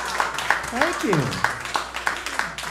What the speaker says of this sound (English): I didn't know I was going to get applause there